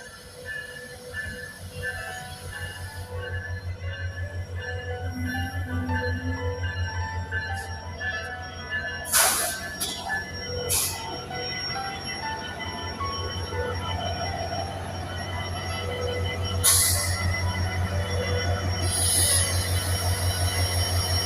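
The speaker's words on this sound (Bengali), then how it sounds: "আমরা দেখতে পাচ্ছি একটি ট্রেন এখানে চলে আসছে মধ্যমতি এক্সপ্রেস" The Madhumati Express, a Dhaka–Khulna train, pulls into a station with a steady heavy rumble of wagons, wheels squealing and screeching in sharp bursts, and clanking rail noise building toward the end.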